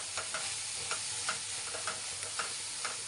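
Tomato gojju with sambar powder cooks on a low flame, a soft steady sizzle under regular scraping stirs of a spoon against the pan, close and fairly quiet, with no voices.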